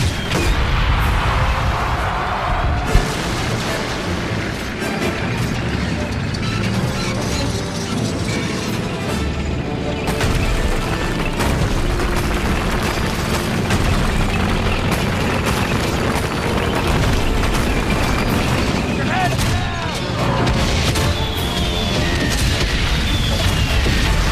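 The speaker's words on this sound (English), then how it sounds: "I've got a freaking cannon on the side of this thing. Alright, now we're talking. I'm gonna shoot these bums right out of the sky." Tank cannon fire in the World War I video game Valiant Hearts: The Great War, loud booming blasts over a dense, continuous wash of game battle noise and music, with no one speaking.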